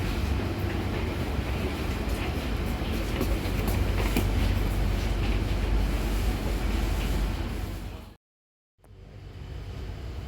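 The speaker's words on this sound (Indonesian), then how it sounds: "kereta api Sembrani telah diberangkatkan dari stasiun Gambir" Sembrani passenger train with executive coaches pulling out of Gambir station, a steady loud rumble and rattle of rolling cars that continues for most of the stretch, then a sudden brief cutout before the rumble resumes.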